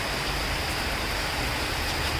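Heavy rain pours down over Akola city as a dense, unbroken roar of falling water, loud and steady throughout.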